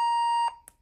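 A single steady electronic beep from a Gemmy Talkbax pug toy's name recorder holds for about half a second, then cuts off sharply, followed by a faint click.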